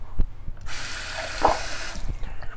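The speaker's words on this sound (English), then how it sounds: "Cold water." Cold water runs from a bathroom sink tap during a wet shave with a double-edge travel razor, a steady broadband rush of about a second and a half between faint handling clicks and a brief splash.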